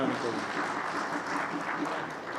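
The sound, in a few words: applause for newly elected officials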